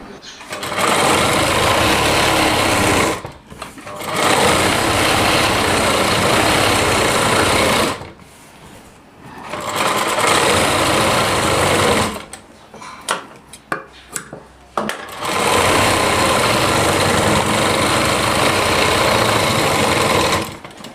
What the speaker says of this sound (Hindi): तो ये देखिए मैंने कुछ इस प्रकार से साइड की सिलाई लगा दी है